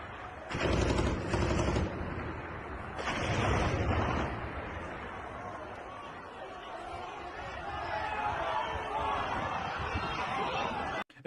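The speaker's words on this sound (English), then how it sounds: "the gunfire didn't stop the crowd, it only enraged them" Bursts of gunfire at a street protest crackle in two loud volleys early on, followed by a long stretch of crowd noise and commotion.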